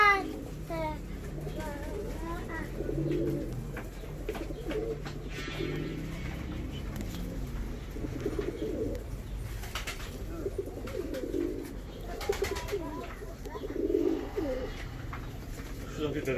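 Fancy pigeons coo repeatedly inside their coop, low throaty calls rising and falling throughout, with occasional faint voices and rustling in the background.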